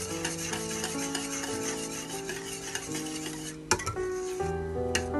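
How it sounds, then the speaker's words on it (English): Thickening milk being cooked down into mawa is whisked steadily, a continuous rasping, rubbing churn against the pan with a low sizzle beneath and a few sharper knocks of the whisk. "give it a nice whisk"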